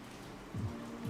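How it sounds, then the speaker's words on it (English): Steady soft rain falling, a continuous hiss with a faint low thump partway through, no voices. "I don't know if you guys can hear the rain in the background"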